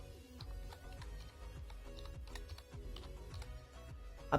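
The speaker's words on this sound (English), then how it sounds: "I've typed take Sudama, and after typing the username, hit enter" Keys clack steadily on a computer keyboard as a username is typed during an Ubuntu setup on Windows 11, a run of close, crisp taps closing with one louder keystroke like an enter press.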